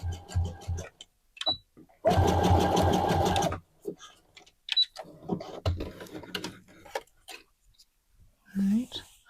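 A sewing machine stitching the edge of leggings, a loud continuous mechanical whir of about one and a half seconds, bracketed by short clicks, fabric handling and soft speech.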